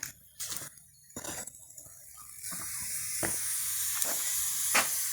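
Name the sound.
pressure cooker hissing over a wood fire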